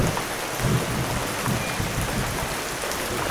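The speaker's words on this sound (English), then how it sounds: "A massive rain started and there is nowhere to hide on this island but my paddleboard." Heavy rain pouring onto a lake around a small island in Serbia, a dense, loud, continuous hiss of drops hitting water close by, with no voices.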